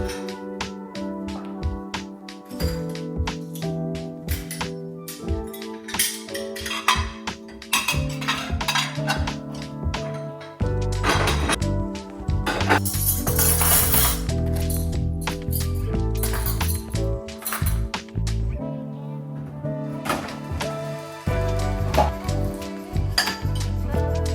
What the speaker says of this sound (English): I'm gonna do the dishes